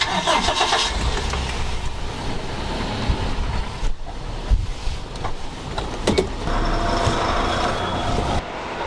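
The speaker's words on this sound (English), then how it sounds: "We're gonna take the bongo, drive it in here" A Bongo van engine cranks and catches, then rumbles steadily as it drives into a junkyard in Japan, with rattles and clunks over a continuous loud motor drone.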